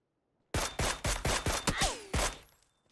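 A rapid burst of about seven loud, closely spaced gunshots from PUBG played on Xbox Series X, ringing out alone with no talk and trailing off into a brief fading tail.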